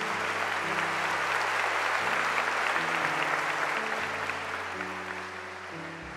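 A church congregation applauds during a Mass homily, a dense, continuous wash of clapping from many hands in a reverberant hall, fairly distant and steady for several seconds, with soft organ or keyboard chords held underneath.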